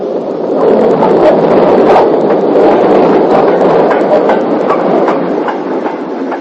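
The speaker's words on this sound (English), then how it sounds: "as 45360 passes with a northbound freight" Steam locomotive 45360 hauling a northbound freight train on the far north line near Alness in 1960, a steady loud rumble and rhythmic wheel clatter rolling past close by throughout.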